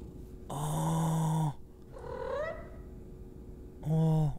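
A low, purring, snore-like creature sound rumbles in bursts in a horror video game, separated by a quieter warbling tone, each burst steady and close with no speech over it.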